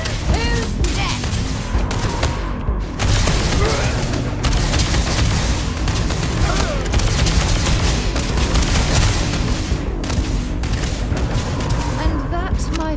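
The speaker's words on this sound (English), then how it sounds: "Open fire!" Gunfire in a firefight in the video game Starfield, loud dense bursts and booms of shots filling the scene continuously, with voices shouting over the combat.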